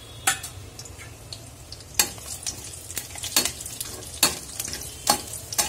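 Whole garam masala spices crackling in three tablespoons of hot oil in a kadai over a gas flame, a steady low sizzle broken by sharp, irregular pops and stirring clatters, close and alone with no talk.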